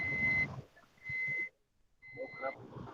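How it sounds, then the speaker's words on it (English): A repeated electronic beep sounds in three steady tones with short gaps between them, heard over background room noise during an online class, moderately loud and clearly separated. "Beep beep noise."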